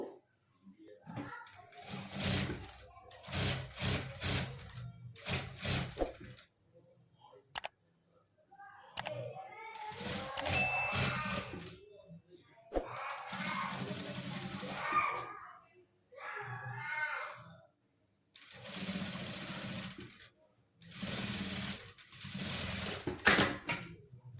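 A sewing machine stitches a Peter Pan collar onto a princess-cut blouse, running in repeated bursts of fast, even mechanical whirring separated by short pauses, with someone speaking between some runs.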